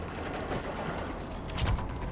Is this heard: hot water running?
no